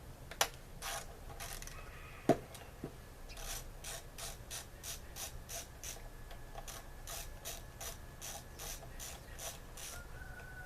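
A hand ratchet clicks in a steady run of quick pawl ticks, loosening the nuts on the carburetor cover of an MTD lawnmower, with a couple of sharper knocks early on and a low background hum throughout.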